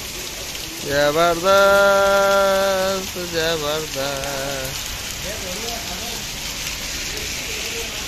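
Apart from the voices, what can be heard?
heavy rain and hailstorm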